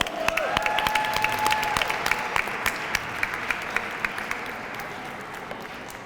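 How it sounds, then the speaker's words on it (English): Audience applause fills a school theatre performance of The Wiz, a steady wash of many hands clapping at moderate distance with a faint sustained tone early on, continuing evenly throughout. "Give another round of applause."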